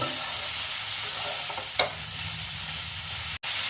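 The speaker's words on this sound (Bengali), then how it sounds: "নুন আর হলুদ দিয়ে আরও একটু ভালো করে কষিয়ে নেব" Bilati amra chutney being stir-fried with salt and turmeric, a dense close sizzle under steady stirring with one sharp scrape midway and a brief cut near the end, no voices.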